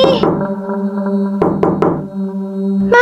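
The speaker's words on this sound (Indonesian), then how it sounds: "Ma, ada yang ngetuk pintu, Ma." Knocking on a door in the Sakura School Simulator game, a quick burst of three sharp knocks over a steady droning background tone.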